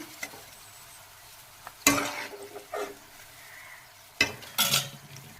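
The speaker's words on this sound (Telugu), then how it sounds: "లో ఫ్లేమ్లో పెట్టుకొని వేయించుకోవాలి అప్పుడే బాగా వేగుతాయి" Ivy gourd pieces and peanuts fry over a low flame in a pan, with a soft continuous sizzle broken by a few sharp scrapes and clinks of a spatula stirring against the metal.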